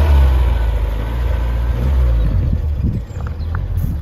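A rebuilt engine in a 1970 Lotus Europa S2 runs close by with a loud, low rumble that dips and then settles into a rougher idle. Faint clicks and knocks sit under it near the end.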